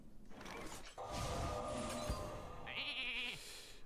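A sheep bleats in the Hearthstone card game, a wavering cartoonish bleat over layered game effects and chimes. It is followed by a short bright magical shimmer, and all of it sits at a steady, moderate level.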